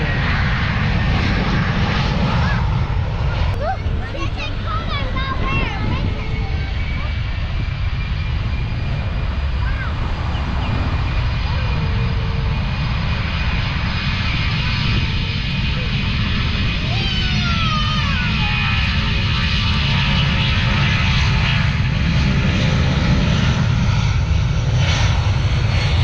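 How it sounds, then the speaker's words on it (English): A loud, continuous airplane engine roar that holds steady and swells slightly, with faint voices underneath, like a plane passing close overhead on approach. "Watch this plane. He's landing."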